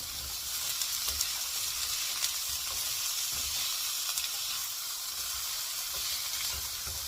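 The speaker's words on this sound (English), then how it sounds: "And we'll just stir fry this." Vegetables for pork fried rice stir-frying over raised heat, a steady dense sizzle with light clicks of stirring throughout, close and fairly quiet, no voices.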